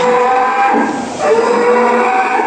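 A large, sturdy sacrificial cow brought from Lampung moos loudly and close at a livestock farm, a long continuous low call filling the moment, with no talking.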